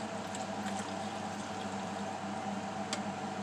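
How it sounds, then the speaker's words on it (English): Brewed coffee poured from a pot into a cup, a steady, continuous liquid hiss lasting a few seconds with no voices over it. "I'm just going to pour some in to my cup"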